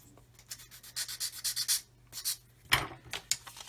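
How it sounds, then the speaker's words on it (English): A sanding stick rubs over freshly cut plastic parts of a 1/144 scale Roden C-141B Starlifter model kit, making quick, faint, close scratchy strokes in short bursts. "And then I can take the sanding stick and just clean up those cuts."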